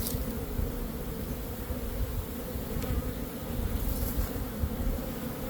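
Honey bees swarm around an open hive with foundationless frames while a honey super is added, making a dense, steady, close buzzing drone that never lets up.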